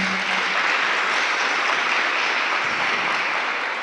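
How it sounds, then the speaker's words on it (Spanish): Sustained applause from a church congregation praising the Lord, a dense, even wash of many clapping hands at steady loudness throughout, with no speech over it. "Démosle un aplauso al Señor."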